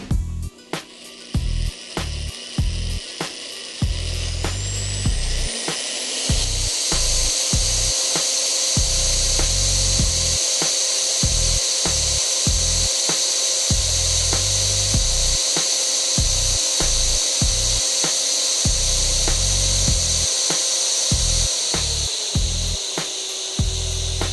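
A power drill twisting wire whirs steadily for a long stretch, with a rhythmic pulsing rumble and a rising whine as it spins, no voices.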